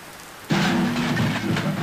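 Steady rain hisses in a Roblox game, then a low rumble of thunder rolls in suddenly and continues beneath the downpour.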